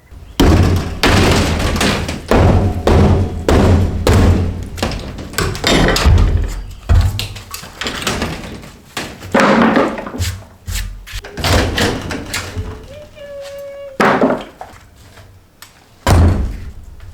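A rotten rim joist is pried and pulled from a mobile home's frame, giving a string of close, heavy thuds and wooden knocks with a brief creak near the end.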